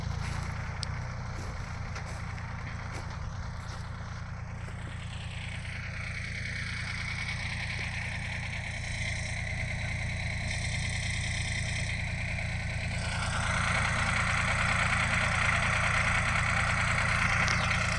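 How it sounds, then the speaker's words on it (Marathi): A small tractor sows chickpeas in a farm field, its engine a steady, unbroken low drone that grows slightly louder toward the end, with no voices. "हरभरा वाहनची पेरणी या ट्रॅक्टरद्वारे करत आहोत"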